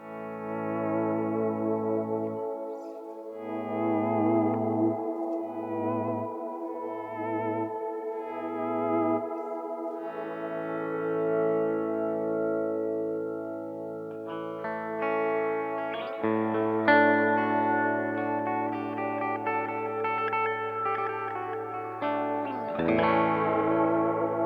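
An instrument played through a Walrus Audio Mako Series R1 high-fidelity reverb pedal set for a spacey, long, drawn-out reverb, sustained chords swelling and blooming into a lush wash that trails on and smears each change together, with no talking.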